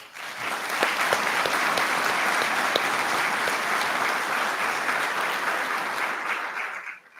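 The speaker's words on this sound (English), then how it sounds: "All right, please give them a round of applause." Audience applause for a graduating class at a graduation ceremony, a full, steady roar of clapping from a large crowd that swells in quickly, holds for several seconds, then tapers off.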